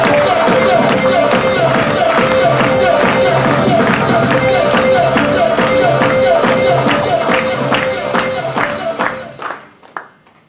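A hall full of people clapping at a celebration, loud and continuous with a background hum and tonal music, thinning out and fading into near silence at the end.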